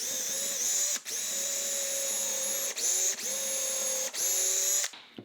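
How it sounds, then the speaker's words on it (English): Power drill boring a pilot hole into a wooden stool leg, a steady high whine running in several bursts broken by brief pauses, close and loud with no talking. "Drill you a pilot hole."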